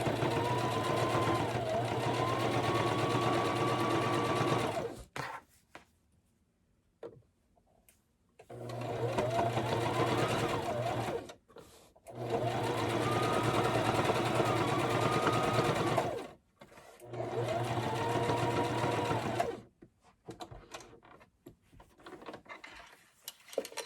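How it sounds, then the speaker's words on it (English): Household sewing machine runs a decorative stitch along a zipper pouch in four bursts of several seconds each, a close, loud whirring hum with rhythmic needle clatter, separated by short quiet pauses. "I'm not gonna backstitch this one because this stitch is just decorative"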